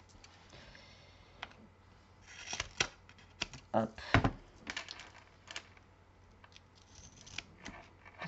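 Scissors snip through paper in a few close crisp cuts amid light rustling and handling noises, with a brief spoken word.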